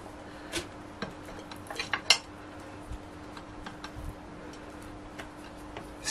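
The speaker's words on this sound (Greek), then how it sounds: "κόβουμε με το μαχαίρι μας εδώ" A kitchen knife cuts through roasted Florina peppers, with sparse light clicks and taps against a hard surface and faint handling noise between them.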